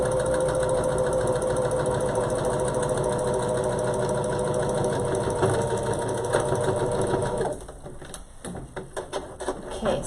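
A sewing machine stitching a reusable cloth face mask, a fast even whir for about seven seconds, then a few short clicking stops as the stitch is locked.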